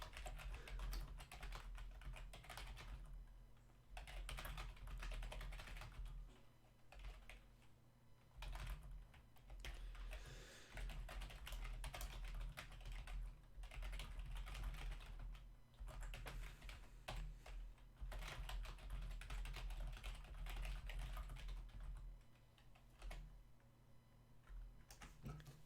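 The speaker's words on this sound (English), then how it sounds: "I was just typing up a tweet" Steady typing on a computer keyboard, a continuous run of clicks over low background hum, fairly faint and with no talking.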